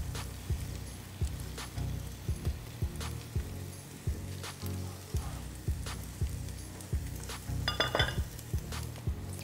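Ugu and spinach leaves going into a cooking pot, with repeated close metallic clinks and knocks of a utensil against the pot over a soft hissing background, no talk.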